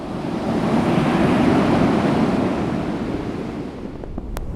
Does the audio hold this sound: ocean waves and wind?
yes